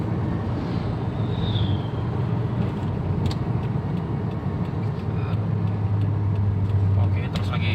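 A 2013 Toyota Rush pulls hard in third gear with a steady, continuous engine and road drone from inside the cabin. People talk over it throughout.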